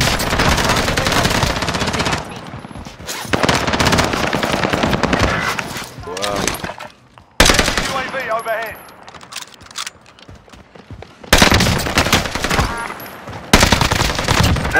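Rapid automatic gunfire from Call of Duty: Modern Warfare, loud and close, arriving in several long dense bursts broken by short pauses, with speech-like game chatter between volleys.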